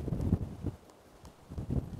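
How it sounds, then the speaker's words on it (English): Wind gusts over an outdoor winter match-fishing venue, buffeting the microphone with low rumbling surges that rise, ease off in the middle and build again toward the end. "There we are, just battling that wind a little bit."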